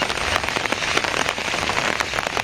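Steady rain pattering on surfaces outdoors around a village house, a dense, even hiss of drops with small scattered taps, close and continuous with no voices.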